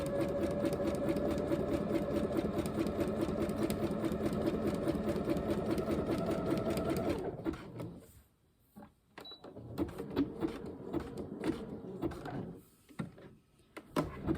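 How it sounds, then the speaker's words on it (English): A sewing machine runs steadily for about seven seconds while sewing a back stitch on trousers, then stops. Fabric handling and light clicks follow. "When I get to this the pin, it's the last pin, and I'm just going to do a back stitch."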